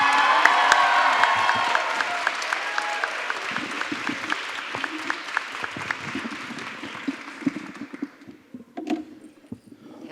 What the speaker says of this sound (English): Please give a round of applause for Benz Antoine!